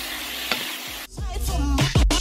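Beef and vegetables are stir-fried and stirred in a hot pan, with a sizzle broken by a few sharp scraping and clattering utensil strokes toward the end.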